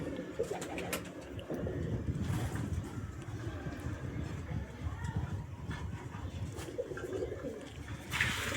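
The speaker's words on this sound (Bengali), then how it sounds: "এটা হলো নর কবুতর" A male pigeon coos in soft low repeated phrases close by, alongside scattered wing and movement noises, with someone speaking over it.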